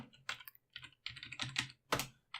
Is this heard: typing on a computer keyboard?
yes